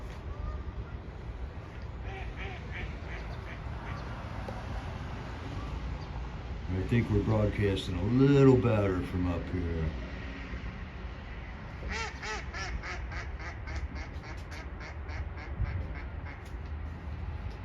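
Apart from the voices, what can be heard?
ducks quacking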